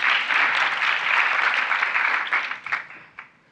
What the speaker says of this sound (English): Why not applaud again?